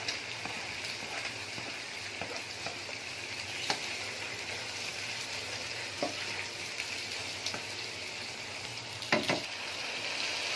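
Chopped tomatoes sizzling and frying in a pan for cabbage keema, a steady close hiss with a few soft stirring clicks and scrapes, no talking.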